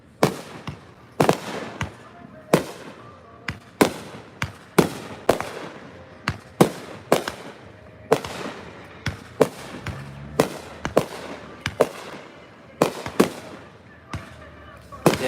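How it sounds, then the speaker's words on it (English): Fireworks from a city municipal display burst near the listener on a summer night, sharp loud explosions cracking every second or so across the whole stretch, with faint crackle between blasts and no talk. "it's a city or a municipal fireworks display"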